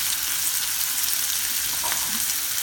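Green bell peppers and jalapeño peppers sautéing in a pan give a steady, even sizzle that holds at one level throughout, close by and moderately loud, with no talking.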